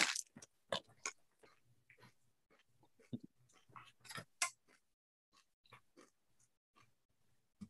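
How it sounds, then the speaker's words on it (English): Close-up crunching of sansho-flavored Japanese potato chips: a string of sharp, crisp bites and chewing crackles in an irregular rhythm, loud and near, with quiet pauses between bursts and no talking. "these particular chips are very crunchy, which is good for potato chips"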